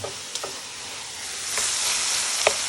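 Italian sausage sizzles steadily in a hot pan, a continuous close frying hiss that swells louder midway, with a few sharp pops and crackles breaking through.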